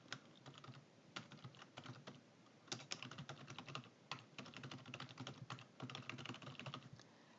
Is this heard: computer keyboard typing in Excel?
yes